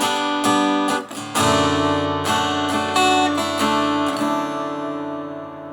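Acoustic guitar strummed through a Fishman Loudbox Micro amplifier with the gain turned up to 12 and some reverb, ringing chords played close and fairly loud, with no talk.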